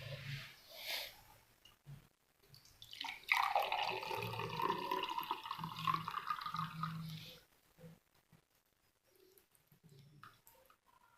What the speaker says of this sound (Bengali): তা আমরা ছেঁকে নিচ্ছি।